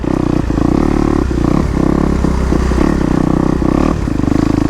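A 4-stroke dirt bike's engine chugs loud and close as the rider brakes with rear and front toward a stop, the idle pulsing unevenly with brief dips and light clattering.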